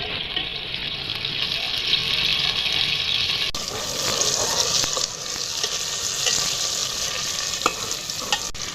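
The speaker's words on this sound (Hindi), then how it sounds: "घी में प्याज शामिल करने के बाद अच्छी तरह हिलाएंगे।" Onion stirred in hot ghee while cooking moong daal sizzles steadily up close, with scraping spoon strokes and a few light clinks against the pan.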